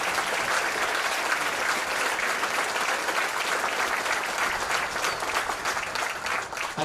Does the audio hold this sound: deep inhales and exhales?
no